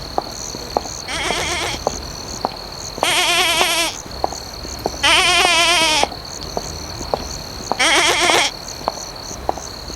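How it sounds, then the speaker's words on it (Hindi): A baby goat bleats four times at steady intervals from a short distance, each cry clear and wavering, over a constant high insect-like drone and scattered faint clicks. "उस बकरी के बच्चे की आवाज़ बस थोड़ी ही दूरी से आ रही थी"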